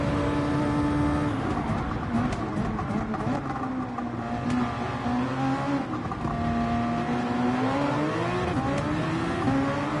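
A Group C Nissan race car engine in Gran Turismo 7 drones loudly and steadily throughout, its pitch swelling and dipping as the revs shift.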